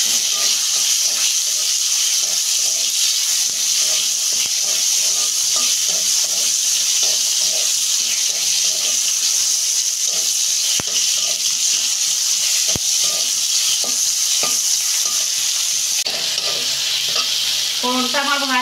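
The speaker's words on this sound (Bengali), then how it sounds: "ফোড়নটা আমি 2 মিনিট ভেজে নেব।" Spice tempering frying in a pan for a lentil dish, a loud continuous sizzle with spoon stirring scrapes throughout and a couple of sharp knocks, no talk.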